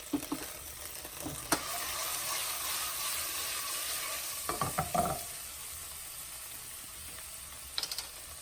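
Ginger and a tablespoon of sambal chili paste frying in a pan for zucchini noodles, a soft steady sizzle broken by a cluster of spatula clatters and scrapes midway and a few clicks near the end.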